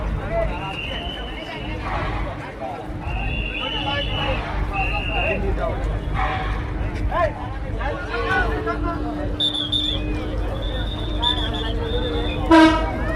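A rescue train arrives at a derailment where the front wheels have come off the track. It sounds several horn blasts, some short and some held, over constant crowd chatter and a heavy rumble.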